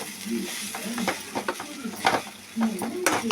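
A spoon scrapes and stirs tempered coconut idiyappam in a hot pan, giving soft intermittent scraping and light sizzling in short irregular bursts, with faint voices in the background.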